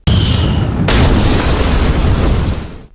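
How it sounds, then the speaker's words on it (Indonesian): A cannon fires with a sudden loud boom that rolls into a long rumbling roar, close and powerful, filling the clip for over two seconds before fading. "saat meriam itu ditembakkan, Laurot terhempas karena kuatnya hentakan meriam tersebut"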